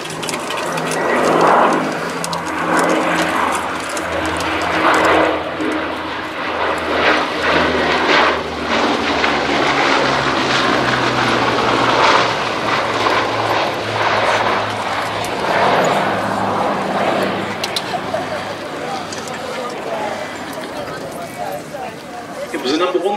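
Bristol Blenheim IV aircraft flying past at Old Warden, a loud, sustained piston-propeller drone that swells and ebbs over many seconds.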